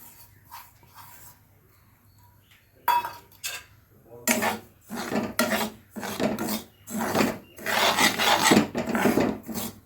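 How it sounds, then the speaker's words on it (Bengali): A bowl of semolina dry-roasts in a hot kadai, stirred with a spatula: irregular bursts of gritty scraping and rubbing that start after a quiet opening and grow denser, close up, with no talking. "আমি এক বাটি সুজি আমি একটু ভেজে নেব সামান্য ভেজে নেবো"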